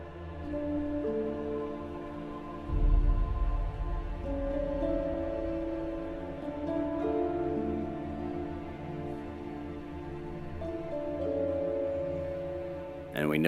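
A film score cue that portrays villains: dark, sustained orchestral chords with layered low tones and a heavy low-end hit early on, the music shifting slowly and steadily throughout.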